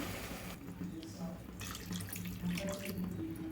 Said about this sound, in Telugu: నేనైతే రెండు గ్లాసులు వాటర్ అయితే పోస్తున్నాను